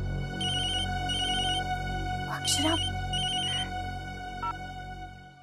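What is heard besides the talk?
phone ringtone ringing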